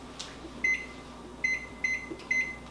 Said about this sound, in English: So I'm going to set a timer for 30 minutes